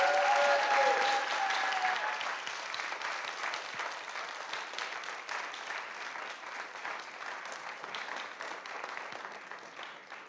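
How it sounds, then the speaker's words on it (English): Sustained applause from a crowd at a researchers' competition award ceremony, loud at first and gradually tapering off over about ten seconds, with no talking. "So a round of applause for you also"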